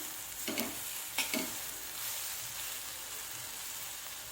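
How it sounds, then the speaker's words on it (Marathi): Green chili thecha sautéing in oil makes a soft, continuous sizzle, with a few brief scraping stirs near the start. "परतून घ्यायचं आहे आपल्याला."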